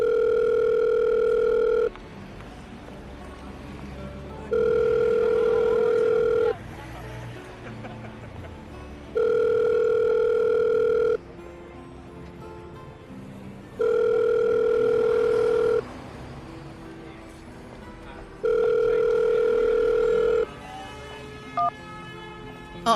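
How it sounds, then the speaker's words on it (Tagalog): An outgoing telephone call rings back repeatedly: steady tone bursts of about two seconds each, five in all, spaced by silent gaps, loud and clear. "Ring ng ring eh."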